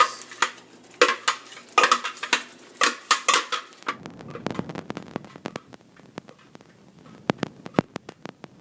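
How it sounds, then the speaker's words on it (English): A spoon stirs butter chicken tomato sauce in a pan, with loud, close metallic scrapes and clinks in a quick rhythm that then thin out into sparser taps over a soft sizzle. "I saute it for 5 minutes."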